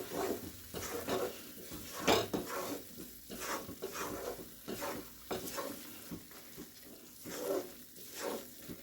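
Red velvet halwa being stirred in a pan, with soft repeated scrapes and thuds of a spoon working through a thick mixture over a faint sizzle, close up and fairly quiet, with no voices.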